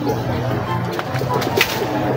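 Soft pigeon cooing comes through a steady low background hum, gentle and somewhat distant.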